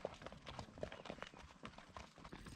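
Hooves clop irregularly nearby on hard ground, soft thuds mixed with faint rustling and low background noise, as horses come close to a bicycle on a rural road.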